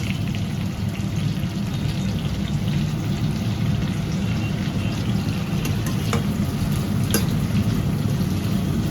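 Chopped onions fry in a hot pan over medium heat for a paper garlic chicken, a loud, steady sizzle that holds for the whole stretch, with faint stirring clicks and no talk.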